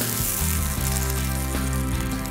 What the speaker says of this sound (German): Es müsste richtig schön zischen und brutzeln.